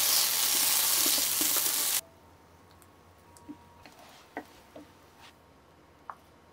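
Eggplant sizzles loudly on a hot pan for about two seconds, then cuts off abruptly, leaving quiet room tone broken by a few faint clicks and taps.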